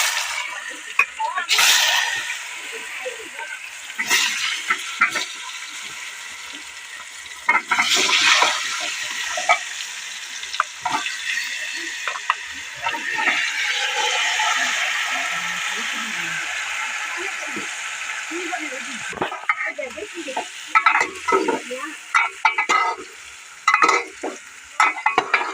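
Mango pieces with turmeric fry in a pan for a sour-spicy mango pickle, stirred now and then. A soft sizzle runs beneath intermittent scraping and clattering, with a voice speaking at times.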